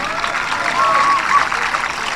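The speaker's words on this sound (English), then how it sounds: "big round of applause, folks, please" A graduation audience at Kaiserslautern High School applauds, a steady wash of clapping from a large crowd with a slight swell in the middle, some voices mixed in.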